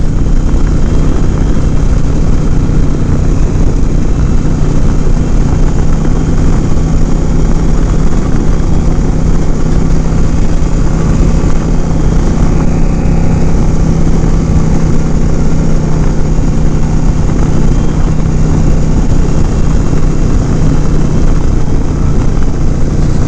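A Yamaha V-Star 1100 Custom cruises along with a constant loud engine drone and wind rush that stay even for over twenty seconds, with no speech.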